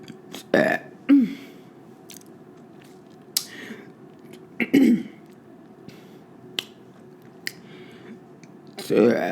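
A woman eating Ethiopian food gives a few burps at a mukbang meal, spread between chewing clicks and quiet mouth sounds, with the loudest burp near the end.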